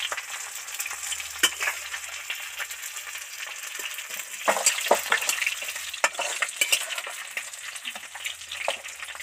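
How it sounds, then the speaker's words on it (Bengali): Pangas fish deep frying in hot oil, a steady crackling sizzle with scattered sharp pops and spatters, close and moderately loud, no talking. "তো মাছগুলো ভালো করে ভেজে নিলাম ডিপ ফ্রাই করে।"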